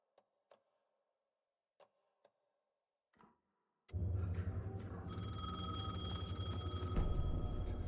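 A telephone rings in the video game Alan Wake 2 after several faint, scattered ticks, then a loud, sustained ringing tone with steady background noise fills the rest.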